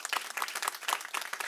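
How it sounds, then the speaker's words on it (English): Scattered applause from a small audience at a press conference on e-cigarettes, individual claps audible in a loose rhythm, fairly quiet and steady throughout. "Another round of applause for everything they're doing."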